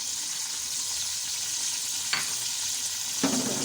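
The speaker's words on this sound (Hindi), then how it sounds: "आपने इसके मसाले को अच्छी तरह भूनना है" Spices including ground coriander and curry leaves frying in a pan for Punjabi kadhi masala, a soft continuous sizzle with two sharp stirring scrapes near the end.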